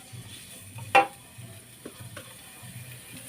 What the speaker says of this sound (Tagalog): maglalagay tayo dito ng mantika sa kawali. Gasin na natin itong igisa,